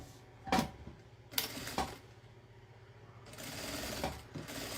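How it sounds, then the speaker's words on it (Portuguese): A sewing machine stitches the side of a pocket on a mesh panel of a manicure carry case, running in short separate bursts and then a longer steady run, close and moderately loud. "Eu vou só fechar a lateral dos bolsos aqui na telinha, passar uma costurinha"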